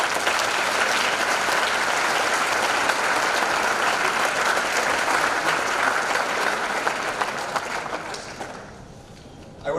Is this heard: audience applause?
yes